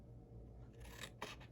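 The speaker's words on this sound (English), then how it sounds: "let me go ahead and trim this" Paper being trimmed for a recipe mini album, soft cutting and rustling strokes close by, fairly quiet, with a couple of sharper snips near the end and no talking.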